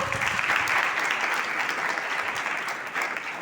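A dense crowd applauds at a school kurash and yoga competition, a steady, fairly loud wash of clapping that holds from start to finish with no break.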